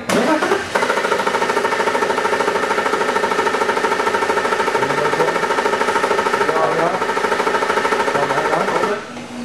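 A car engine cranks steadily on the starter for a relative compression test, a loud, even rhythmic churning that runs for about eight seconds, then stops.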